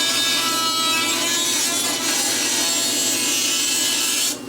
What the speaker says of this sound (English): Use this mini saw to clear in some, I guess, area for it.